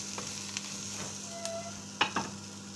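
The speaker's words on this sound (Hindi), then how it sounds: "मैं अभी इसको अच्छी तरह से हिला दूँगी 2 मिनट के लिए भून लूँगी" Brinjal masala with green chillies frying in a pan, a quiet steady sizzle broken by a few scraping stirs of a spoon, two sharper clatters near the end.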